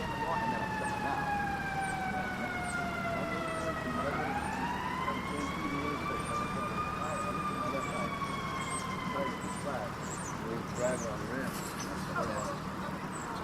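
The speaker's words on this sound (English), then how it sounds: "you hear the sirens and stuff" Police and ambulance sirens wail nearby in Maryland, their tones sliding down and back up, over a steady background rumble with occasional voices.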